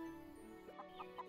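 A chicken in the farming video game Everdream Valley clucks three or four times in quick soft bursts near the end, over a faint steady background tone.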